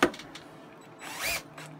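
A power tool drives a screw on a two-piece RMR red dot mount for an FN57 MKII pistol, giving short, close, high-pitched whirring bursts separated by brief pauses.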